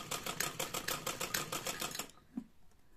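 An older sewing machine stitches teddy bear fur in a rapid, steady mechanical rattle for about two seconds, then stops, leaving a quiet room with one soft thud.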